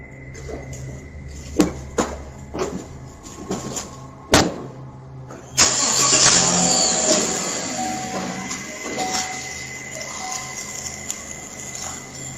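A red truck's engine starts in a garage and the truck drives away, caught on security camera: a few knocks and thuds, then a sudden steady engine roar that holds and slowly fades.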